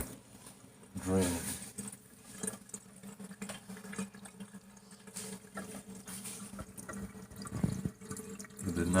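A dishwasher drains after being reset, a faint steady splashing trickle of water with low gurgles, under a man's speech.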